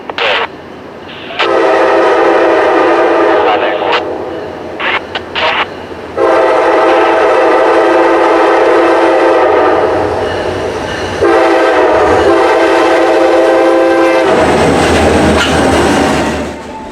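A CSX freight train horn blasts in long loud bursts, short and long, over the heavy roar of the passing train with rumbling wheels, in Jacksonville, Florida.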